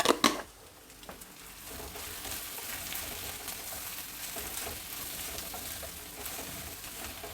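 Dill leaves frying in hot oil with turmeric for a mango chitranna: an even, continuous sizzle and crackle close up, opening with a brief loud clatter of stirring, then a steady hiss.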